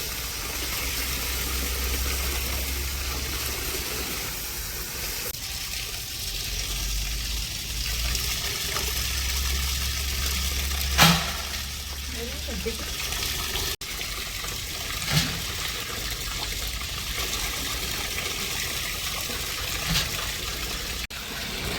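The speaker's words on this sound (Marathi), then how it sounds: "त्याच्यानंतर मी गव्हात पाणी टाकलं" Warm tank water poured into a tub of washed, swollen wheat grain makes a steady, close trickling gush, with a few faint knocks along the way and no talking.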